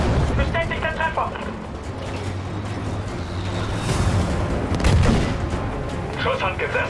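Deep booming tank cannon blasts with rumbling explosions, a few heavy shots spaced apart over a noisy battle background in the video game Battlefield V, World War II setting.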